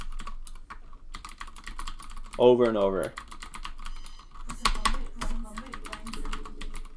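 Rapid computer keyboard typing of repeated StarCraft macro hotkey presses clatters steadily throughout, with someone speaking briefly over the keys.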